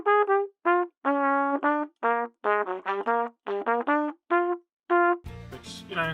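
A big band line of evenly spaced, equal-length straight quavers plays at a steady pulse, then ends in a brief burst of noisy sound.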